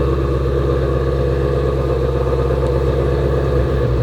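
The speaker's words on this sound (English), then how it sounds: "I know you guys missed the sound of this Voodoo motor." A Ford Mustang GT350R's Voodoo engine runs at a steady idle, a loud, close, throbbing rumble with an even pulsing beat and no voices.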